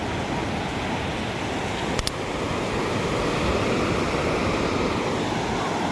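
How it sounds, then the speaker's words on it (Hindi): Ocean waves crash and rush continuously at Juhu Beach in Mumbai, a loud broad roar of surf with a brief sharp click partway through. "अभी ये लहरें और तेज़ हो गई"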